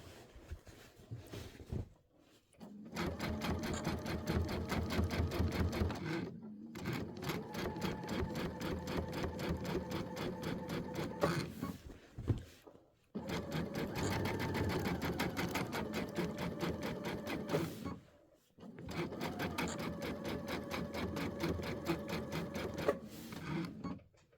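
A sewing machine top stitches in the ditch on a quilted Christmas project, running in four long steady bursts of rapid mechanical whirring separated by brief stops, close with no talk.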